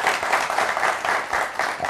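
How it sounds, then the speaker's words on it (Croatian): A studio audience at a televised political debate forum about Mostar breaks into a burst of steady, fairly loud clapping that holds evenly for two seconds, with no talk over it. "Aplauz za vas."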